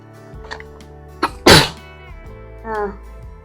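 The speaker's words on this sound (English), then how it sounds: "That's why I'm sneezing." A single loud, sharp sneeze up close, with a short breathy intake before it and a soft vocal sound after.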